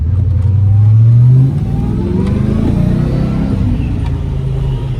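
A 1995 Ford Mustang Cobra V8 revs hard after a new mass airflow sensor install, rising to a loud sustained roar before settling into a steady, rumbling drive close by.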